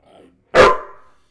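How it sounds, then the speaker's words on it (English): A dog barking sound effect played as a stream redeem: a single loud, close bark after a faint brief sound, then a short fading tail. "At least this dog's noise will be enough"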